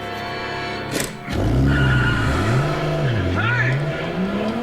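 A car speeds away in the anime Death Note, its engine revving and rising and falling in pitch with a tire skid, loud and close, while dialogue plays over it.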